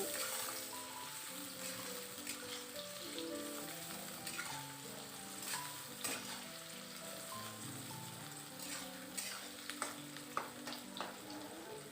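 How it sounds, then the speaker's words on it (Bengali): Onions frying in oil in a pan, cooking down toward red-brown, give a steady soft sizzle with occasional stirring clicks, under a quiet tonal background melody throughout. "এবার এই পেঁয়াজটাকে আমি লাল করে প্রথমে ভেজে নেব"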